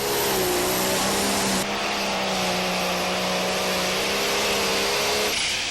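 A loud, sustained engine roar from a pulling tractor at a 2005 ATPA tractor pull in Salem, Indiana, droning steadily at high revs with a shift in pitch partway through, then easing near the end.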